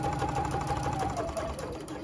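A sewing machine runs a steady, continuous whir while sewing a seam on a zippered pouch, close and constant with no breaks.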